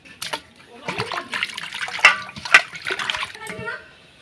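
Thin raw potato slices drop into water with small splashes and wet patters, under a voice speaking nearby.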